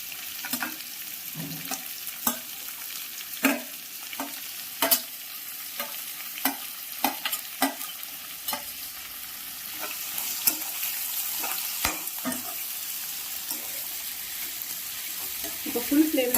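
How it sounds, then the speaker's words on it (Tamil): Onions frying with ginger and garlic in a pan, a continuous close sizzle punctuated by repeated sharp scrapes and clinks of stirring, heard on its own with no talking. "அப்போதான் வெங்காயம் நல்லா பொரிஞ்சு வரும், கோல்டன் கலர் ஆகணும்."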